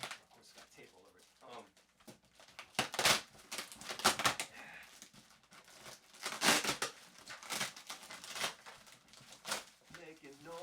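Tape stuck on a new shirt crinkles and crackles in close, bursty handling noises, loud crumpling surges mixed with faint voice in the background.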